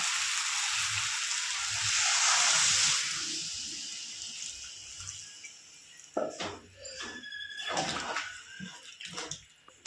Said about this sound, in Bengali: ভালো করে মশলা আমার কষানো হয়ে গেছে, এবার দিয়ে দেবো জল।